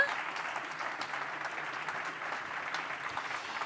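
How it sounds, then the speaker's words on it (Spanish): An audience at a sports forum applauds continuously, a steady wash of many hands clapping at moderate volume from some distance. "Un aplauso para ella también."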